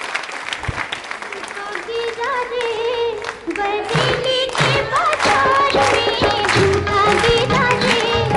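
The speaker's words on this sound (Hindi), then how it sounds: "उनके सम्मान में बजाइए तालियां" An audience applauds in honour of two singers at a quiz show event, the clapping steady and full throughout while music with sustained tones rises over it.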